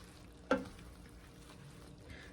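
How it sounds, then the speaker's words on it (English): Spinach stirred into a creamy garlic sausage pasta in a pan, a single soft scrape of the utensil over a quiet, steady low sizzle. "So we're just gonna stir this in and we're gonna let it cook about 3 minutes"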